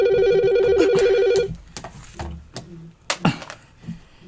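A telephone rings loudly for about a second and a half, then falls silent, followed by scattered knocks and handling sounds nearby.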